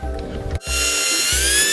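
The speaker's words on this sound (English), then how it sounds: "let's drill this bitch" Power drill boring into a car bumper during a bumper install on a wagon: a brief clatter, then a sharp start into a loud, steady whine that rises slightly in pitch, close and with no talk.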